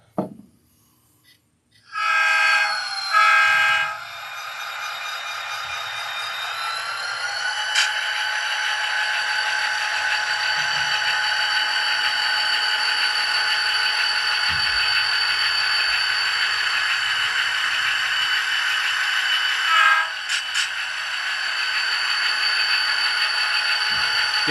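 A model train runs back and forth along its track, giving a steady motor whir with sustained tonal whine. The whir starts after a short pause near the beginning, then continues close and fairly loud, with a brief dip partway through.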